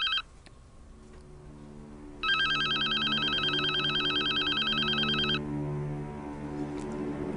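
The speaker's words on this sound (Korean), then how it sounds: "안 받아도 되니? 기다린 전화일 텐데." Telephone ringing in a Korean TV drama scene, a loud electronic ringtone burst of about three seconds over a quieter sustained musical background, with no talk during the ring.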